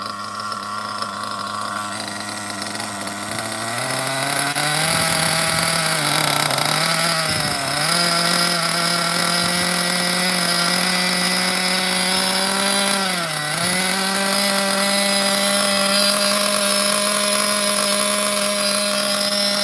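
A Hyper 21 nitro engine in an OFNA Ultra MBX RC buggy with a three-needle carburetor buzzes steadily and loudly, its pitch rising and dipping briefly a couple of times as it idles and revs.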